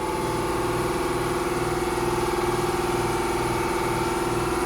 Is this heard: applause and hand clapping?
no